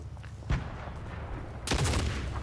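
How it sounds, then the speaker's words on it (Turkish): A couple of sharp explosive bangs followed by a rumbling, crackling burst of fireworks in Fortnite, moderately loud with no talking. "Bak bak havai fişeğe bak"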